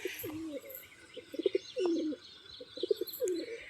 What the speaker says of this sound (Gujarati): મિત્રો ડબ્બાના પારેવા જો થોડાક અંદર છે, 3 પારેવાના